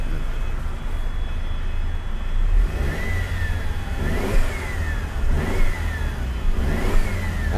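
Mercedes-Benz SLK200 R172 engine revved while the car sits parked, rising in repeated throttle blips over a steady idle, close and fairly loud with no talking.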